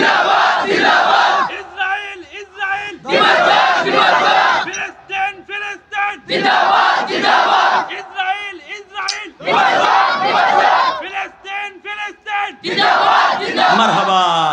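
A large crowd at a Bangladeshi religious gathering (waz mahfil) shouting takbir (Allahu Akbar) in unison, with five loud, echoing chanted bursts separated by short pauses.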